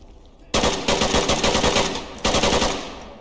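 Gunfire in a multiplayer shooter video game erupts as loud, sustained automatic bursts, with one short pause before a second burst that tapers off.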